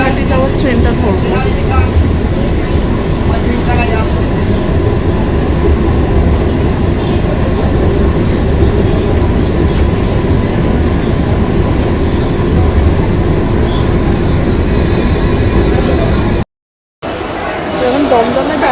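At Dum Dum railway station, a train gives a loud, steady rumble and rattle close by. It runs continuously, with a brief dropout near the end.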